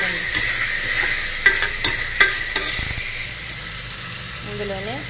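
Tomatoes and ginger paste stirred in a hot frying pan: a continuous sizzle under a few sharp scraping clacks of the spoon near the start, close and fairly loud, fading into softer frying.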